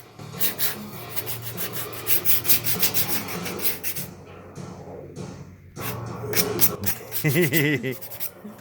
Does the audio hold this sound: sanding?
yes